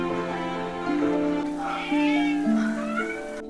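A cat meows in a few drawn-out, wavering calls, close and clear against a soft tonal background.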